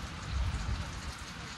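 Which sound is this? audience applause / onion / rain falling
rain falling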